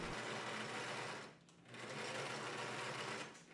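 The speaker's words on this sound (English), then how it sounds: "join them with a straight stitch with the right sides facing" A sewing machine running a straight stitch to join denim panels of jeans, a close, steady mechanical whirr with a brief pause in the middle.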